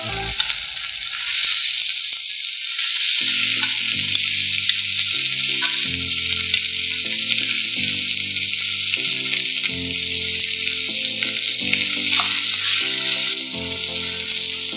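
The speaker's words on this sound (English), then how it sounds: "Once the raw smell disappears, I'm gonna add the tomatoes." Tomatoes frying in a Chettinad chicken masala, a steady loud sizzle throughout with intermittent stirring, while background music plays along.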